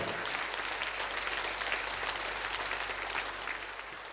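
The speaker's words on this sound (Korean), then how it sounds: "두 분께 큰 박수 한번 보내주시기 바랍니다" Church congregation applauding two people at a Korean War veterans' memorial service, a steady, dense wash of clapping that carries on without a break and eases slightly toward the end.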